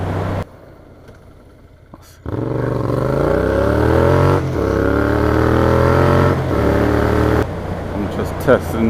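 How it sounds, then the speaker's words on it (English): An engine revs hard and loud, its pitch climbing steadily through several sustained pushes, then cutting off abruptly into quieter clatter. "Testing the engine, officer."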